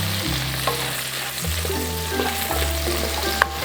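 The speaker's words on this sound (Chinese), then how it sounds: "虾头里面有虾脑嘛，在油里面慢慢的炒" Shrimp heads fry in oil for tom yum soup, making a steady, close sizzle with occasional stirring scrapes and a brief clink near the end.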